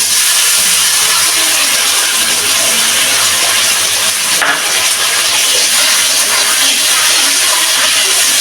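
Spice mix and turmeric hitting hot oil for a cauliflower and paneer dish, a loud continuous sizzle and hiss that stays steady throughout with no talking.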